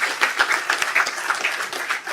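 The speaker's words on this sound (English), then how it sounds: "these guys deserve all the credit and a big round of applause" A crowd applauds at a city commission meeting to honor a tennis team after its season, steady mid-level clapping filling the room for a couple of seconds, with no voices on top.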